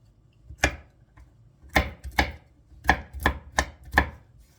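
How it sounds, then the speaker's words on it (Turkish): Knife chopping a handful of walnuts into coarse pieces on a board: six crisp, separate thuds in an uneven rhythm, close and clear with no talk. "bir avuç kadar cevizimi iri iri kıydım"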